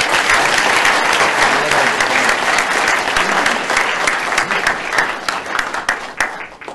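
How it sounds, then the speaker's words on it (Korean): A large audience claps loudly and continuously at the opening of a special guest lecture in a public hall, a dense burst of applause that thins slightly toward the end. "자, 우리 모두 힘찬 박수로 강연의 시작을 알리도록 하겠습니다."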